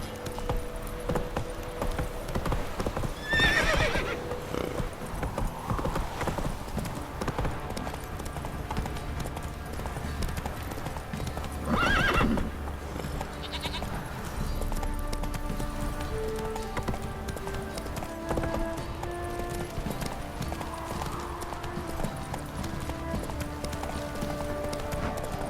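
Horse hooves clip-clop in a steady galloping rhythm as Roach runs in The Witcher 3: Wild Hunt, continuous throughout with a brief whinny-like swell, over game ambience and occasional speech.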